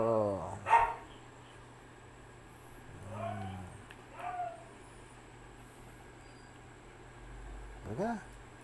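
A dog named Brio barking indoors at night, a few short separate barks spaced apart over a quiet background, fairly faint.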